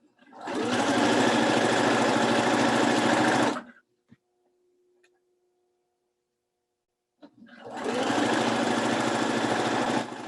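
A sewing machine runs in two fast, steady bursts as it back stitches through quilt layers on a Christmas throw pillow, close and loud, with a quiet pause between.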